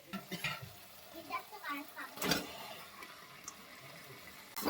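Mutton pieces dropped into a pan of cooked-down spice paste and stirred, with soft scraping and a low sizzle, a louder clatter midway, and faint background talk.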